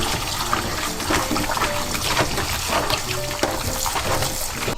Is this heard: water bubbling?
yes